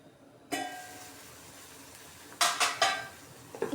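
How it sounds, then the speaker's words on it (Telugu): A lid set onto a pot of boiling oats: a steady simmering hiss, then a quick cluster of clanking metal knocks near the end. "ఫస్ట్ మూత పెట్టాలండి"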